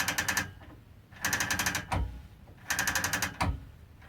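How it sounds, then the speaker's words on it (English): A quilt top being rolled onto the bar of a Nolting Pro Series longarm quilting frame: two rapid runs of close, rattling ratchet clicks separated by pauses, with soft thumps of the bar and fabric shifting. "Now we are just rolling our top onto the bar."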